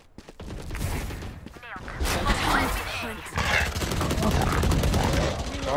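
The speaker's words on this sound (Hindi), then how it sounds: "शॉट आ रहे हैं मल्टीपल ए शॉट" Rapid bursts of gunfire from a first-person shooter game crackle almost continuously, with several overlapping shots and loud impacts and no clear pauses.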